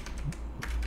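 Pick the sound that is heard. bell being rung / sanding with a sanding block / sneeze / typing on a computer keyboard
typing on a computer keyboard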